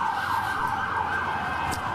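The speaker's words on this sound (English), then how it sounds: "Let's let the siren go by." Emergency vehicle siren wails loudly and steadily along a New York City street, its rising and falling tone sounding close, with traffic rumble underneath.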